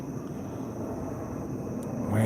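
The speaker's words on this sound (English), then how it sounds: "This fucking airplane." An airplane flies overhead, giving a continuous broad rumble that holds steady and swells louder toward the end, heard outdoors.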